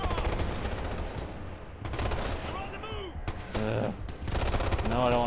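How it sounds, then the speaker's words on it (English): Dense gunfire and explosions in the video game Ghost Recon Future Soldier, loud repeated bursts and shots in close succession, mixed with speech-like voices during the firefight. "Oh, I'm getting shot at."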